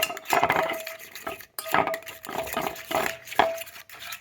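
Fishing bait dough being stirred with flour in a bowl, with repeated scraping and clinking strokes against the bowl in irregular bursts, close and fairly loud, no talking.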